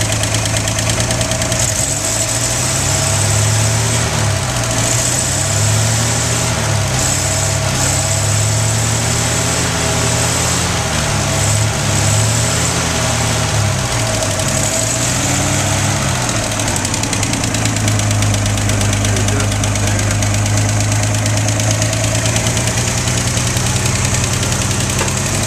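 A 1962 Ford F-100 engine idles on wood gas from a gasifier, with the fuel lines disconnected and no carburetor. It gives a continuous close rumble with a faint knock and a slightly wavering low throb throughout.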